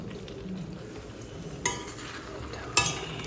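Soya chunks coated in curry masala are stirred around a pan under a low steady sizzle, with two sharp scraping clinks of the spoon against the metal standing out.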